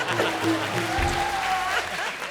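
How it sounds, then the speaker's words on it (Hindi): Studio audience applause on a Comedy Circus stage, a brief burst of clapping mixed with crowd noise, fairly quiet and lasting only a couple of seconds. "जोरदार तालियां"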